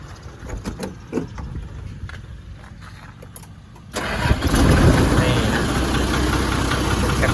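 An old vehicle engine, started after sitting unused for a long time, cranks and catches midway through, then settles into a loud, rough, steady idle nearby; a voice speaks briefly before the start.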